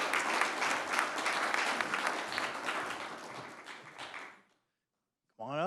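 An audience at a school district board meeting claps in a dense burst of applause for about four seconds, then it fades to silence before a voice begins speaking.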